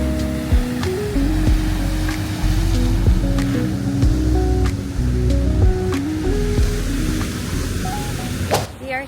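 Ocean surf at Windansea Beach in La Jolla, San Diego, rolls in as a steady, close wash with some wind, overlaid by faint background tones and voices.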